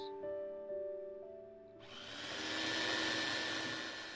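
A kitchen food processor whirs into action grinding oven-dried garlic into powder, starting abruptly after a brief tonal hum and running loud and steady to the end, with no talking.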